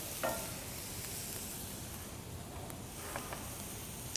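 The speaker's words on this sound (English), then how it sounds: "We can hear these seeds popping and starting to turn light brown." Dried spice seeds toasting in a pan, a faint continuous sizzle broken by a few small sharp pops and crackles.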